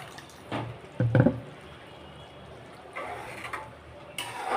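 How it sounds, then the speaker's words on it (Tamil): Water splashes and trickles into a cooking pot of bitter gourd curry in short pours, fairly quiet against a low background hum, with a brief louder gush near the start. "இப்போ நம்ம தேவையான அளவு நம்ம தண்ணி சேர்த்துக்கலாம்"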